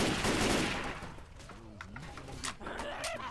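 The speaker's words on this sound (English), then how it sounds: "Coach and Rochelle are like shooting each other in here" Gunfire from Left 4 Dead 2 survivors Coach and Rochelle shooting, with a dense burst of shots at the start easing into scattered cracks, with faint voices underneath.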